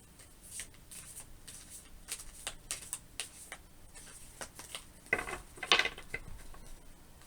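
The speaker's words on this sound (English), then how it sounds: "Even though I didn't shuffle that long, something is telling me that it's done with the shuffle" Tarot cards are shuffled by hand in soft, papery riffles and slides, a steady run of close, quiet flutters with a louder burst of snapping card edges near the end.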